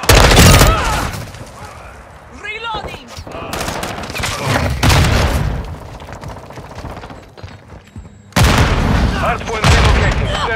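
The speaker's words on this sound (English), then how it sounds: "Throwing flash grenade!" A firefight in Call of Duty: Modern Warfare 2 multiplayer has loud bursts of gunfire and booms with a flash grenade thrown, heavy blasts separated by quieter gaps; a voice speaks briefly during the action.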